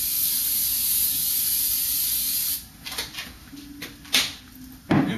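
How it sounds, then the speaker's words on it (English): A steady hiss of cooking spray into a pan runs for a couple of seconds, then gives way to a few clinks and knocks of the pan being handled. "get some cooking spray that I like to use and just spray"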